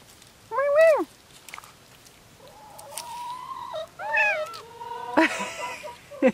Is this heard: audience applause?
no